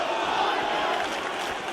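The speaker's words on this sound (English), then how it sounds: "Let's go Weidman chant reading through the crowd" A large arena crowd in EA UFC 3 roars in a dense, continuous wash, chanting for Weidman at an even level throughout.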